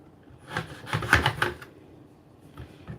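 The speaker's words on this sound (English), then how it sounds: "So you cut the lemon up." A knife cuts through a lemon in a few quick, close strokes, soft slicing and scraping against the board, then a faint second cut after a short pause.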